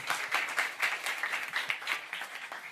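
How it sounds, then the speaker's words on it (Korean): An audience at a forum applauds before a lecture on Jewish law and the Israel–Iran war, a continuous, moderately quiet wash of many hands clapping with uneven pulses, heard from a slight distance. "우리 박수로 강의를 듣겠습니다."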